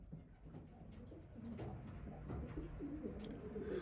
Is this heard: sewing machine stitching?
no